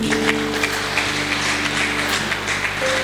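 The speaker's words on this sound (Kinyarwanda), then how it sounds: "Nagira ngo mwihe amashyi ko mwahisemo neza." Audience applause at a bishop's installation ceremony in a church, a steady wash of clapping sustained throughout, fairly loud and even with no pauses.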